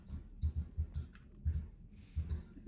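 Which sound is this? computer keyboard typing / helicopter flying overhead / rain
computer keyboard typing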